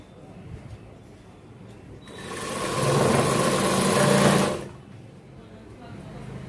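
Sewing machine stitching along the edge of a saree fabric, a steady mechanical whir that rises loud for about two and a half seconds mid-clip, with quieter motor hum before and after.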